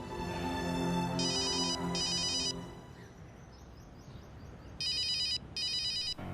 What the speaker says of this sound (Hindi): pick up the phone miss Jadav